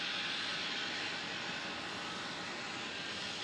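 A jet airliner rolling down the runway for takeoff at Melbourne Airport on a misty evening, a steady broad engine roar heard from a distance, constant and unbroken with no talk over it.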